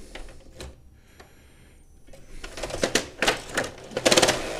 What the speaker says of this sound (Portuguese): extrair o papel para o carro de impressão e tá travando, cara. Simplesmente não vai.